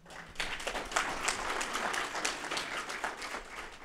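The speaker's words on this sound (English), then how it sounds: "can we please give our panel a round of applause?" A conference audience breaks into applause for an AI ethics panel, starting abruptly after a brief quiet moment and continuing as a steady, moderately loud patter of many clapping hands.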